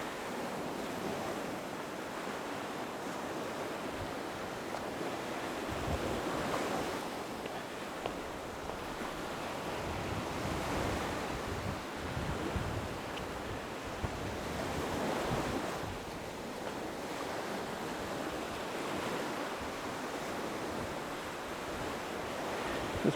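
Sea of Japan waves wash onto the shore at Ōshima in Fukui, surging and receding in slow repeated swells, with steady wind buffeting the microphone and no talking.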